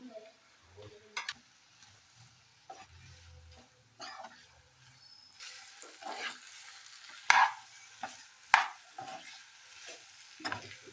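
Sweet corn and potato pieces stir-fry in garam masala, with a soft sizzle under intermittent spoon scrapes and clanks against the pan, and no talking.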